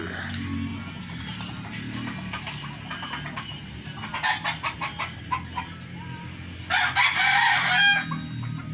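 Fighting cocks (gamecocks) crow repeatedly at close range, with several loud, drawn-out crows standing out over a steady farmyard background.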